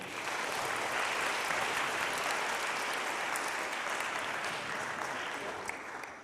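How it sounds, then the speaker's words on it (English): Students and families applaud the coaches at a middle school seventh-grade athletic awards ceremony, a steady, dense wash of clapping that holds at even loudness for several seconds before tapering slightly at the end. "let's give our great coaches a round of applause"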